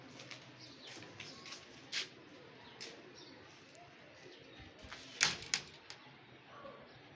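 Pigeons kept by a hobbyist breeder, a VIP flock of ten, give soft low coos and scattered calls with a few sharper knocks and flutters nearby, no voices over them.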